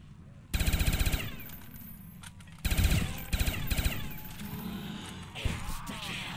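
Gunfire rings out while shooting zombies in Call of Duty Black Ops on the Kino Der Toten map, with loud rapid bursts of automatic fire in two main volleys plus a few scattered shots, close and dominant over game noise.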